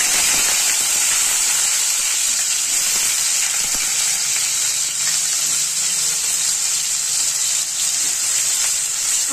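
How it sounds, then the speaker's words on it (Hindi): Steady, loud hiss of boiled peas and potatoes frying in hot oil, a continuous sizzle with no pauses and no talking. "तेल पूरा गर्म हो चुका है, अब इसमें हम डालेंगे उबला हुआ मटर और आलू।"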